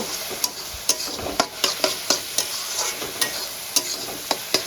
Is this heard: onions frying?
yes